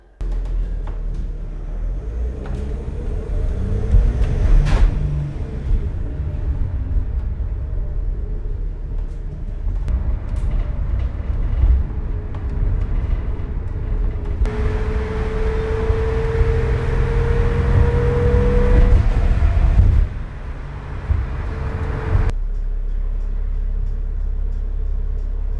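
A Sprinter van drives along with a steady low engine and road rumble that continues throughout, a rising whine midway, and a shift in cabin noise near the end, recorded from inside with no talking.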